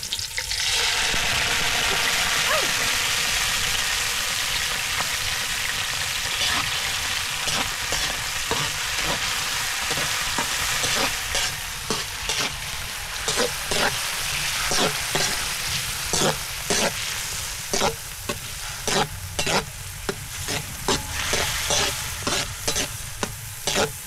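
Corned beef sizzles in a hot pan under a steady bright hiss. Quick, repeated scraping stirs grow more frequent and rhythmic as it goes on, with no voices.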